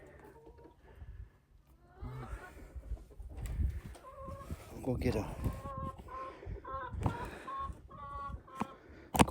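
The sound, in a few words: hens clucking in a hen run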